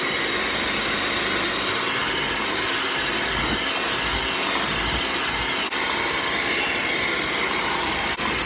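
A stand mixer beats room-temperature jumbo eggs one at a time into butter pound cake batter made from a box cake mix, giving a steady, loud whirring drone throughout.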